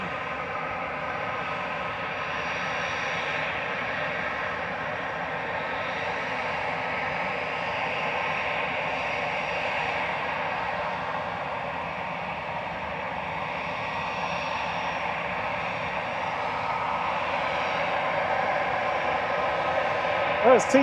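Airliners at Manchester Airport roar steadily and at a distance in a broadband engine drone that holds for about twenty seconds and swells slightly toward the end, with occasional talk faintly underneath.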